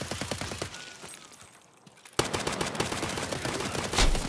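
Rapid bursts of gunfire from a shooter video game called Warmageddon crackle in fast, dense volleys, pause briefly, then return in a louder, sustained stream of shots; no talking is heard.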